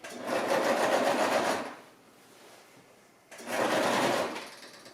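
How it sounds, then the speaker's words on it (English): A sewing machine stitches down the pinned edge of a decorative pillowcase in two steady bursts of whirring, with a quiet pause between them. "Sew down this edge where we have it pinned."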